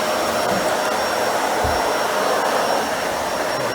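A Dyson Ball Animal 2 upright vacuum cleaner works an area rug with a loud, steady whirring roar, close and continuous with no talk.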